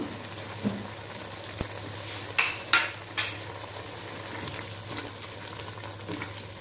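Whole garlic cloves and green chilies fry in hot oil for a tomato fry, giving a steady low sizzle with a few sharp clinks and stirring scrapes from the pan.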